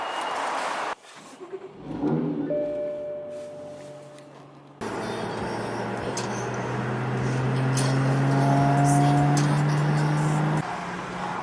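Steady road traffic on Interstate 4 in Orlando with engines droning and a vehicle horn-like tone holding for a few seconds, dense and continuous, with a quieter, sparser stretch at the start.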